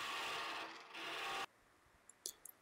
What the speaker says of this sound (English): Now I resort to a regular scraper to finish off the inside of my lid